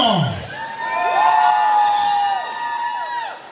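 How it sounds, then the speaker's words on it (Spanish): Crowd at a Calentano zapateado dance contest cheers and whoops loudly for contestant number one, a sustained swell of shouting voices with whistles rising and holding for about three seconds. "El aplauso con el número uno."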